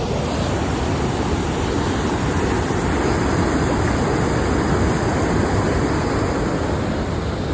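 Loud, continuous roar of rushing water, broad and steady like a torrent pouring through a spillway at Balidiha Dam, with no pauses or voices.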